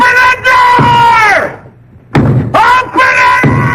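Heavy thuds of fists pounding on a door in an old comedy film, loud and close, arriving in bursts with a brief pause between them, mixed with shouting voices.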